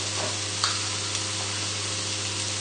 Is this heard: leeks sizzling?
yes